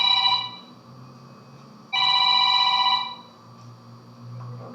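A phone rings in a room with two bursts of a bright electronic ringtone, the first fading within half a second and the second playing clearly for about a second, with low room hum in between and no talk.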